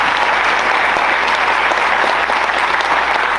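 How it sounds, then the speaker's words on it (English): Loud, dense applause fills a town hall crowd, continuous and close for a few seconds without any speaking over it. "can you raise your hand so we can all give you a round of applause"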